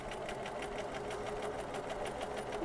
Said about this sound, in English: So now we just keep sewing straight onto the mask, the bias tape that you're going to sew onto the mask.